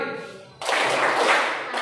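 Students stand and start a practiced group clapping routine in a classroom, a sudden loud burst of many hands clapping together after a moment of speech.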